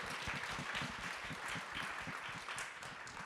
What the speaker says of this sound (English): give a round of applause for this esteemed panel